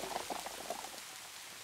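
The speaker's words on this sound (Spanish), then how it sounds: "Avanzaron a prisa bajo una fina pero intensa lluvia" Fine but heavy rain falls in a steady, soft patter that stays quiet throughout and thins out after about a second.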